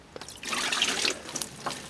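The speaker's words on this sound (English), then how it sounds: "and just dribble a little water back and forth. So that it's constantly staying wet." Water is dribbled back and forth over a hydroponic garden growing in coco fiber, a brief soft trickle and patter of splashing close by, rising and fading within a couple of seconds.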